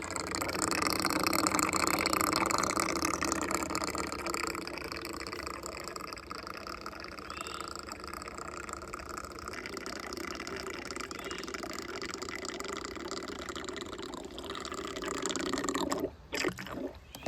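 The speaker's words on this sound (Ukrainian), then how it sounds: "Приклали, пішла заправка." Fuel flows steadily into the tank of an MD-4 mini excavator, a continuous close rushing and gurgling that lasts most of the time and ends with a few clicks and knocks.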